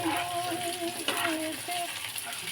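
Potatoes stirred and fried in a pan while making a small tangra fish curry, a dense sizzle with stirring noise under faint background singing.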